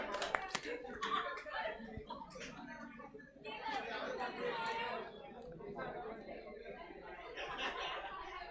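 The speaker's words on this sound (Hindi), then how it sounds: "अरे ताली बजाओ" A small audience claps in scattered bursts amid steady chatter and light laughter, with the applause swelling twice and then fading back under the murmur of voices.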